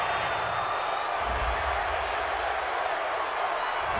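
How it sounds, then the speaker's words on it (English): Football stadium crowd at a Baltimore Ravens versus New England Patriots game reacting to a penalty call, a dense, loud, continuous roar of many voices with a brief swell of booing, no distinct talk on top. "this crowd does not like that call"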